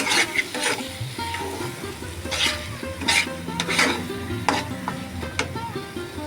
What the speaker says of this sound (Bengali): টমেটোটা দিয়ে দিলাম দিয়ে আর একটু কষিয়ে নেব আমি